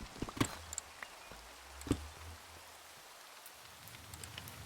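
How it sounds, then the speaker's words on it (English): Steady soft Minecraft rain hiss with a few scattered drop-like taps, faint and continuous, no voices. "right now it's raining"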